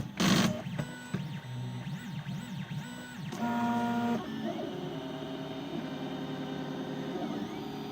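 A 3D printer starting a print with a filament feed problem gives off a sequence of stepper-motor noises: a brief loud burst, then rising and falling whines, a sustained tone and a lower steady hum, close and mechanical.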